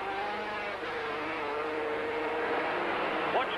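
Honda and Yamaha racing motorcycles at the 1983 German Grand Prix roar steadily at high speed, a continuous loud engine drone with rising whine as they build toward top speed, no clear pauses.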